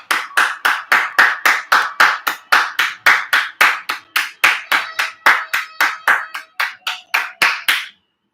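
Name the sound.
clapping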